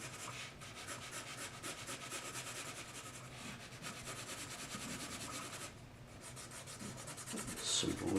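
Charcoal is rubbed smooth across a portrait drawing, giving a soft continuous scratchy rubbing texture that stays close and faint, alone with no voices.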